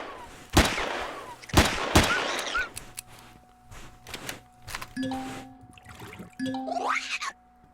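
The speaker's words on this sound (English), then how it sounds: "Let's go ahead and switch to our pistol." In Empyrion Galactic Survival, a pistol fires sharp single shots, three distinct cracks in the first two seconds. Fainter impacts, dings and electronic game tones follow, with no talking.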